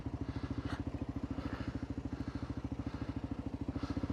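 A Gen 3 Kawasaki KLR650 single-cylinder motorcycle thumps along an off-road trail, its engine pulsing rapidly and evenly, close and steady throughout, with faint wind and clatter.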